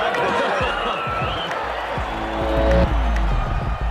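A tennis crowd erupts into a dense, loud roar of voices and cheering as fans scramble for a towel a female player has thrown into the stands. The noise is steady and continuous throughout, with deep rumbling underneath.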